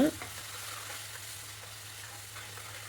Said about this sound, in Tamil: அந்த பேஸ்ட்டையுமே சேர்த்து நல்லா வதக்கி விட்டுருங்க.